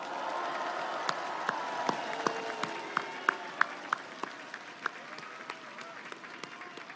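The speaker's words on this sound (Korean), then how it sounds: "격려 박수 한번 크게 쳐 주십시오" A large crowd at an outdoor presidential campaign rally in Seoul gives sustained applause, a dense wash of clapping with scattered louder claps and faint cheers, fading slightly toward the end.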